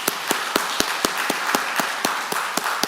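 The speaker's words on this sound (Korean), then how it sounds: "한번 격려의 박수 부탁드립니다" Church congregation at a Sunday service in Baltimore applauding in encouragement: sparse, evenly spaced claps with a soft bed of scattered clapping beneath, moderately close.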